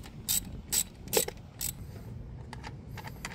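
A hand ratchet removes bolts on a 2004–2006 Scion xB, with several short, sharp clicking bursts close by, followed by fainter, lighter ratcheting clicks.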